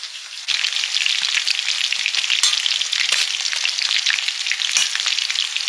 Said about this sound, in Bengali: পরের রাউন্ডটাও ভাজা হয়ে গেল